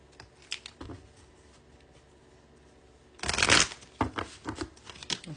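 A deck of tarot cards being shuffled by hand at close range, soft scattered taps at first, then a loud riffling burst followed by quick, uneven flicks and snaps.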